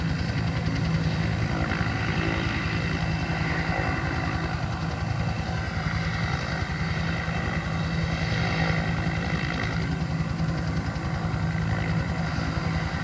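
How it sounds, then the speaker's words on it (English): Rescue helicopter flying over a park near a burned mountain, a steady, moderately distant rotor and engine drone that continues unbroken throughout, with no talking. "That could be a rescue chopper for looking for people"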